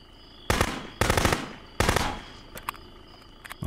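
Three loud, close gunshots from the Contraband Police game, spaced irregularly with echoing decay, followed by a few fainter sharp clicks, with no talking.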